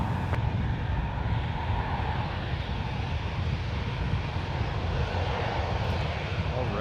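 A KLM airliner takes off at San Francisco International Airport, a loud, steady engine roar that holds throughout with broadband rumble and no letup.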